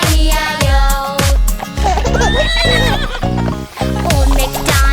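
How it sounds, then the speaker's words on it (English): A cartoon horse neighs within a loud, bouncy children's farm song with musical backing, the whinny sitting inside the busy accompaniment alongside rhythmic clip-clop beats. "And on this farm he had a horse, E-I-E-I-O. With a neigh-neigh here and a neigh-neigh there"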